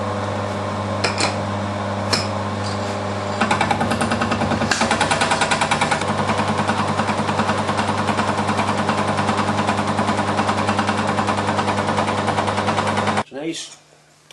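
Milling machine finishing the last face of a metal block: steady loud motor hum with a fast rattling chatter of the cutter through the middle, then the machine winds down and stops near the end.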